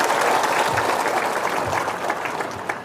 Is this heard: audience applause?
yes